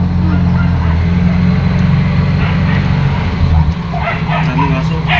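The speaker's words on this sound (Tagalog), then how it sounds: "Daming aso." Several dogs bark and yip continuously, with a loud engine rumbling underneath throughout.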